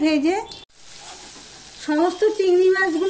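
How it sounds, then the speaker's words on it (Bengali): Prawns fry in oil in a pan, giving a brief crackling sizzle between stretches of a person talking over the cooking. "ব্যাস হয়ে গেল ভাজা। ঠিক এইভাবেই আমি সমস্ত চিংড়ি মাছগুলো"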